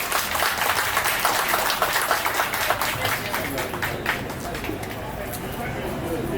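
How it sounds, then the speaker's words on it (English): An audience at a community gathering in Ghana's Volta Region breaks into a sustained round of applause, with dense, steady clapping and crowd chatter mixed in. "Please help me give them a round of applause."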